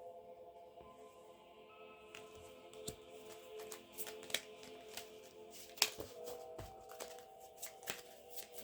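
A deck of angel cards is shuffled by hand in a quiet room, giving soft papery riffles and several sharper flicks and taps spread across the stretch.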